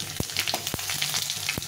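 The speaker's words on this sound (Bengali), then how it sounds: "একটু লাল করে ভেজে নিতে হবে 5 ফোড়ন, শুকনো লঙ্কা আর 5 ফোড়নটাকে" Dry red chilies, bay leaf and panch phoron frying in hot oil, a steady close sizzle with a few sharp utensil taps against the pan.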